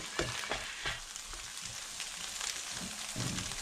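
Onion and carrot stir-fried with egg in a hot pan, a steady close sizzle broken by several sharp scraping stirs of the spatula, with no talking.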